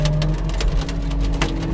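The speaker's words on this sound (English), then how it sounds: "I mean, look at that hail." Hail pelting down on a farm with horses and cattle, a steady dense patter of hard impacts with occasional louder hits over a low rumble, no voices.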